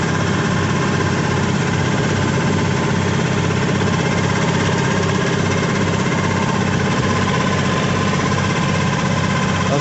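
A tractor engine runs loud and steady with the PTO engaged in snowy conditions, a constant close rumble with vibration and no break across the whole stretch.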